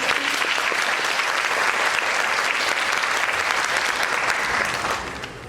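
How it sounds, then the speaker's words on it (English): Sustained audience applause for dancers at the close of a Bharatanatyam arangetram performance, dense and steady clapping throughout, easing slightly at the very end. "Can we give another round of applause to our dancers?"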